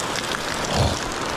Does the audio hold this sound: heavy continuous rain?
yes